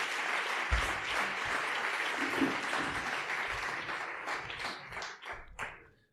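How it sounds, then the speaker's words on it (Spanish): An audience at a talk on the future of energy gives a strong round of applause for the speaker, Antonio Turiel. Dense clapping fills the hall and then thins out to a few scattered claps before fading. "dar un fuerte aplauso a Antonio"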